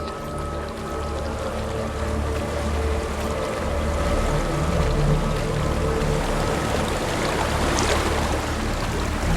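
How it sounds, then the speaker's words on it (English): A waterfall in the video game Hellblade: Senua's Sacrifice pours in a steady, full rushing roar that holds evenly throughout without pause. "There's a waterfall."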